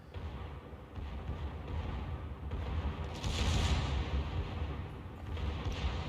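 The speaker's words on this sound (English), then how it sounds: "He's got some good salvos on the Ohio." Warship gun salvos in a naval video game rumble as a dense, muffled series of low booms and thuds beneath a continuous battle din, swelling louder midway and again near the end.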